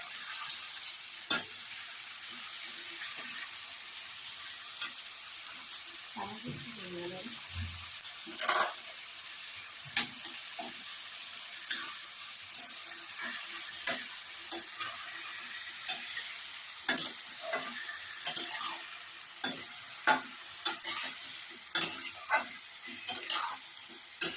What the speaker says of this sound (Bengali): ভালো করে টমেটোটাকে নাড়তে হবে।